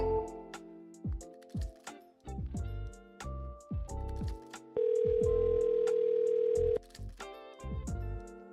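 A phone call rolls over to voicemail: a series of short telephone tones and beeps, then a long steady tone lasting about two seconds, followed by more electronic tones, all clear with no talking.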